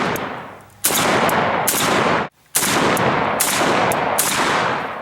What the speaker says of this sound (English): we'll go ahead and keep putting a few rounds through it